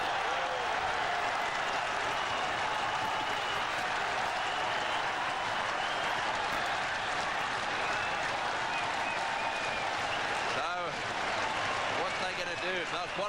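A packed cricket stadium crowd in Sharjah in 1998 applauding and cheering, dense steady roar of clapping from a large distant crowd that continues throughout, with a commentator's voice over it.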